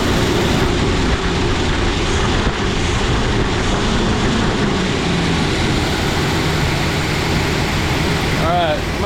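A 1976 Pontiac Firebird with a freshly resealed 350 V8 runs on its first start, a steady loud idle drone with a fuel bowl leak, continuous and close throughout.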